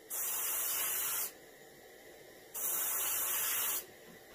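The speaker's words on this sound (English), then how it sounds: "Angle spraying, letting some of it hit the front of the maxillary." An airbrush sprays paint onto the mouth of a reproduction warmouth fish in two steady, close hissing bursts, each about a second long, separated by a quieter pause.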